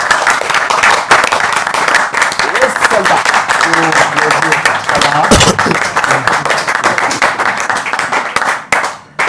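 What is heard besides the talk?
audience applause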